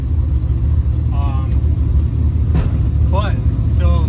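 A car engine idles and is driven under load after carburetor tuning, still running a little rough: a steady low rumble close by, with short chirping squeaks over it.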